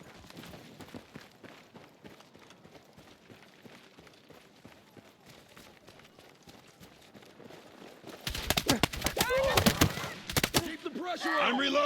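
Rapid bursts of gunfire in the Battlefield campaign mission "No Sleep", a dense, loud clatter of shots swelling in the last few seconds over a steady background of movement and combat noise.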